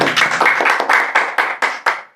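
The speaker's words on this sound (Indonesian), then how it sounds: "Tepuk tangan." Hands clap roughly nine times in a slowing, fairly regular rhythm, sharp and close, the claps spacing out slightly toward the end before stopping.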